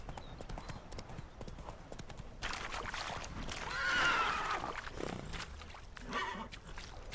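Hooves of Roach, Geralt's horse in The Witcher 3, clop along steadily, with a louder whinnying swell partway through amid game ambience.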